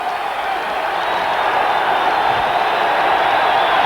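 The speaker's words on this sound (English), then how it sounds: "The crowd here at Montana State coming to their feet to cheer their defense" A crowd cheers steadily at a 1984 Montana State home football game against Rhode Island, a sustained roar from the stands that builds slightly and carries no clear talk over it.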